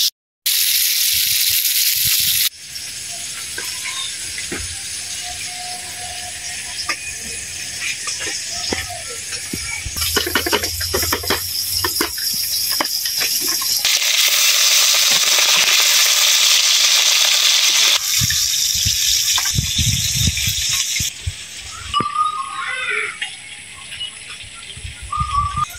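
Small mixed village fish such as puti, baim, chingri and khalsha frying in a pan, giving a steady loud sizzle and crackle with clatter from handling the pan, running alone throughout.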